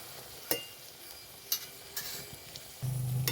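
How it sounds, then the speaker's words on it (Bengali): Papad frying in oil in a pan sizzles softly and steadily, broken by a few sharp clicks and taps as it is flipped, with a low hum rising near the end. "পাঁপড়টা আমি এবারে উল্টে দেবো দেখুন একটু কিন্তু ছেড়ে যাচ্ছে না বা ভেঙে যাচ্ছে না"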